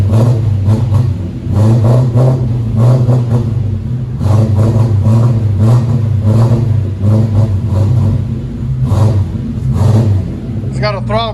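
A Lexus SC 400 with a 4.0L V8 and a modified exhaust revs in repeated throttle blips and surges, loud and close, with people talking over the engine throughout.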